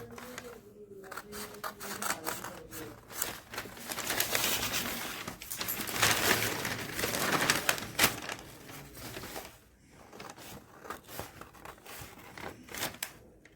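Scissors cutting a paper circle, close crinkling snips and rustles of paper coming in uneven bursts and growing denser in the middle, with no talking.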